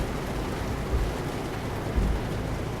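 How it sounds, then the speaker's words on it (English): Steady hiss of heavy rain and wind from a storm in American Truck Simulator, broad and continuous, with a couple of faint low rumbles underneath. "Also quite a bit of rain today."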